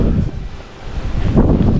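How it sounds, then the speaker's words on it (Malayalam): Strong wind on a mountain trek to Agasthyarkoodam buffets the microphone in uneven rushing gusts, loud and close, with no voices. "നല്ല കാറ്റ്"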